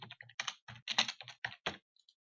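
A button name is typed on a computer keyboard: about a dozen crisp key presses in a quick, uneven rhythm, close and clear, ending with a couple of faint taps.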